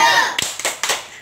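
Pupils in a primary classroom clap a spirit clap with the classmates beside them, three quick, sharp claps close by, with a voice just before.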